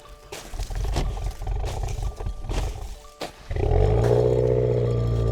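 A Subaru STI, a built GD model, cranks and fires up in the cold after snow is cleared from its exhaust, settling into a loud, steady idle close by after some rustling and clatter.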